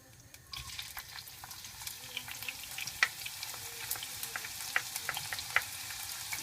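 Onion frying in a little oil in a pan or skillet: a steady, close hiss of sizzling with scattered crackles and pops, plus occasional stirring scrapes, with no voices.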